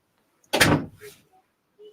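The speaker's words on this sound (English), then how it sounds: "Can you shut the door, please?" A door is pushed shut in a home, giving one short, fairly loud thud with a brief rattle, followed by faint small knocks in an otherwise quiet room.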